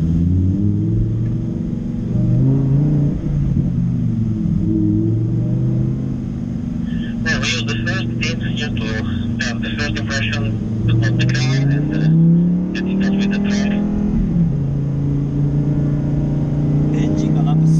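A Lamborghini Huracán Performante engine hums smoothly as it pulls away, heard from inside the car, its low drone rising and shifting, with a burst of higher rattling and clicking midway through.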